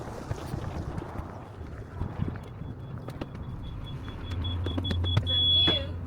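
The engine of a steel trawler under restoration idles steadily in the background, a low rumble with scattered clanks, and a tone rises toward the end while people talk nearby.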